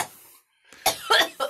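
A woman's close, breathy cough in a few rough bursts after a short silence, with a brief hiss at the start.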